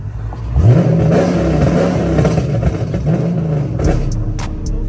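A Dodge Charger engine, freshly back from a transmission repair, idles loudly nearby and is revved up several times in a rising and falling pattern, with a steady low rumble underneath.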